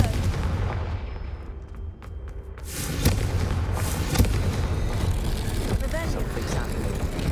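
A Confringo fire spell blasts in the video game Hogwarts Legacy during the Slytherin's Scriptorium quest involving braziers, giving booming explosive bursts over a rumbling game backdrop.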